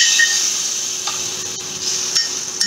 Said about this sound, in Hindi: ये जो छौंक की आवाज़ है ना